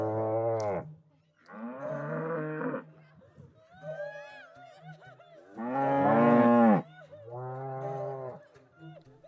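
Cattle moo loudly and close in a sound effect for a Spanish audiobook, with several long, drawn-out lowing calls in succession and short pauses between them.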